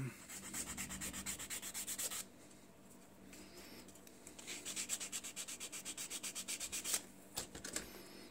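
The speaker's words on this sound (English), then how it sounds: "I'm gonna sand this down." Hand sanding a hull piece for a Titanic wreck diorama model, quick rhythmic back-and-forth rasping strokes, close and fairly quiet, pausing briefly midway before resuming.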